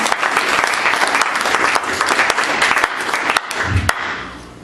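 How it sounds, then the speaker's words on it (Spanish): An afternoon church congregation bursts into loud, sustained applause, with dense clapping from many people filling the room and a few louder claps standing out before it fades. "¿Cuántos le pueden dar un aplauso a Cristo en esta tarde?"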